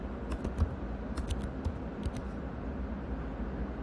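Quick bursts of computer keyboard typing in short clusters over a steady room hum, close and moderately loud, with no voice.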